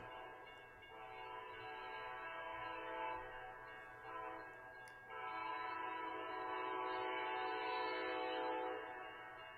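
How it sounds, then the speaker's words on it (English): An Amtrak train approaching the Mount Pleasant Depot in Iowa sounds a loud, sustained GE-style air horn in long chords over a low rumble, holding steady for several seconds from fairly near. "we hear Amtrak approaching the Mount Pleasant Depot"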